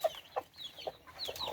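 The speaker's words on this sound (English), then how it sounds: "Chickens love pasta." Chickens cluck in a series of short, soft calls at moderate distance, several separate bursts spread through the moment with no voices over them.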